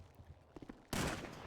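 A gunshot or short burst of gunfire in a roleplay video game, sudden and loud after quieter movement sounds, ringing on to the end of the clip.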